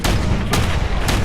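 Gunfire in the game Sim Settlements 2, a loud dense barrage of booming shots with two sharp cracks standing out over a constant roar.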